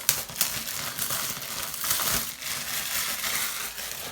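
Packaging for a gold MacBook Air 2020 being opened by pulling a tab, a steady close crinkly tearing and crumpling of paper and cardboard that runs unbroken, with no talking.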